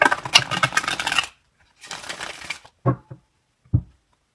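Two bursts of rapid riffling shuffles of a tarot deck, close and crisp, followed by a couple of soft taps as the deck is squared.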